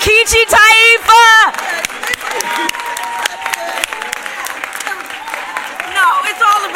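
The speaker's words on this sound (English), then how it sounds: "Let's give a big hand of applause to Nkechi Taifa." An audience at a justice-themed political event breaks into applause and crowd noise after a raised voice. The clapping stays steady and fairly close, and more voices swell near the end.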